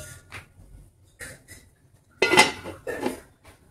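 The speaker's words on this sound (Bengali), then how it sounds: "এটা আবারও ঢেকে দিচ্ছি।" A metal lid set back onto a pot steaming a butterscotch sponge cake, producing a couple of close clattering clanks after softer handling noises.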